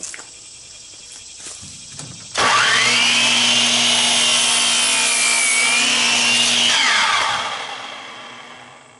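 A Ridgid 10-inch chop saw spins up with a loud whine and bites through wood in one continuous cut, then winds down, close and alone.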